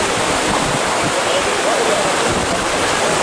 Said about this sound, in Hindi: जोरों से लहरें आ रही हैं।